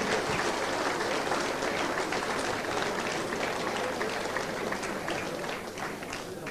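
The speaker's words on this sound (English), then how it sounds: "let's give them a big clap as they go" Wide, even applause from a large crowd, dense and sustained throughout, easing slightly toward the end.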